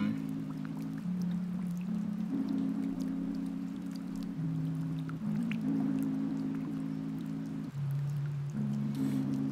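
Steady rain falls in a room of the OMORI video game, an even hiss that runs throughout, layered with a sustained low musical drone that shifts pitch every few seconds.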